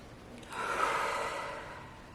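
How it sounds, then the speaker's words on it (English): One slow, deep inhaled breath, close and fairly soft, swelling and fading over about a second and a half with no other sound. "Deep breath."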